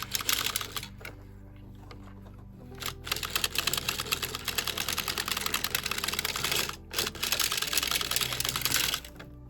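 Hand-cranked Dean and Bean circular sock knitting machine working a ribbed sock, a close dense rapid clatter of needles and cams in steady bursts with brief pauses.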